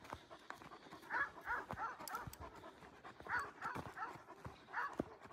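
A dog pants steadily on a mountain walk, rapid rhythmic breaths close by, mixed with footsteps and scuffling on the ground.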